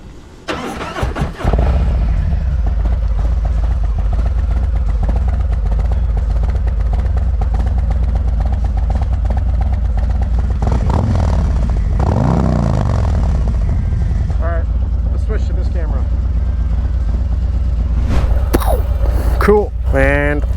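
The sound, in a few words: Harley-Davidson Street Glide ST 135ci motorcycle engine running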